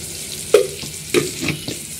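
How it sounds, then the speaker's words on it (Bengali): Salt, turmeric and chili powder frying in a pan for a chicken curry, a steady sizzle broken by a few sharp scraping stirs. "মশলাটা ভালো করে কষিয়ে নেব।"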